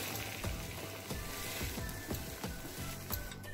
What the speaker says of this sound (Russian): Накрываем крышкой и обжариваем пару минут.